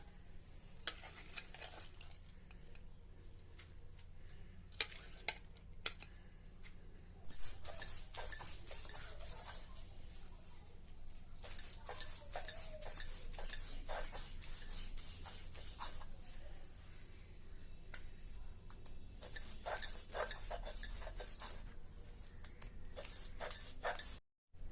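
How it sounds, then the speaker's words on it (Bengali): Lentils (dal) being ground by hand on a stone for thankuni-leaf fritters; steady rough scraping and rubbing strokes, continuous and close, with a few sharp knocks near the start. "এরপরে আমি এই ডালটারে বাটবো।"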